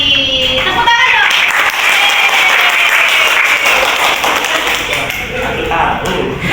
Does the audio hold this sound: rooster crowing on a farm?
no